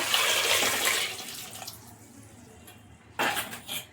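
Water pours noisily into a pot of medium-sized potatoes to be boiled for about a second, fades into a quieter trickle, then a short splash sounds near the end.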